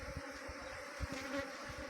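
A honeybee swarm settling into a box, a dense, steady buzzing hum of many bees, close and continuous with slight pulsing and no voices.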